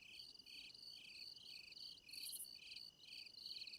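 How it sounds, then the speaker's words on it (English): Crickets chirp in a survival video game, a steady rhythmic pulsing of bright, even trills repeating about twice a second, faint and continuous with no voices. "There's a lot to be said for the chirping of the crickets,"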